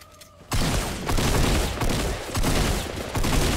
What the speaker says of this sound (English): It got hectic and I just started shooting.